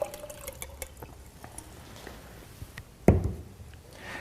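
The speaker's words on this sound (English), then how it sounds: "So we'll take our tomatoes that have been soaking in the tap water and we're going to pour them" Tomatoes soaked in tap water are poured into a container in a kitchen, giving a short, loud splash and slosh that stands out after quiet handling noises.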